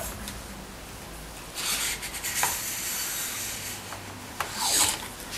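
A cleaning brush scrubs back and forth inside the barrel of a hunting gun, giving a few close, raspy rubbing strokes with short pauses between them, no talking.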